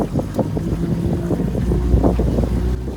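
A boat picks up speed on open water near a beach, its motor churning under heavy wind buffeting the microphone and splashing waves, loud and constant for a few seconds.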